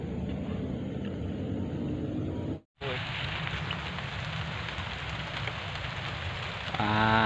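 Light drizzle falls outdoors during eel fishing, a steady broadband hiss of rain that cuts out briefly near the middle, then returns, with a faint voice coming in at the very end.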